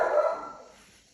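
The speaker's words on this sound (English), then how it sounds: "Sorry for my dogs, but I live in a house with dogs." A single short dog bark indoors in a home kitchen, fairly loud and close, trailing off quickly.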